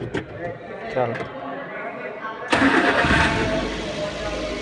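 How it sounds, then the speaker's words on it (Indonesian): A car engine cranks briefly and catches, roaring into a steady idle after a short stretch of voices and clicks during a starter and charging system check. "Kemudian kita starter mobilnya."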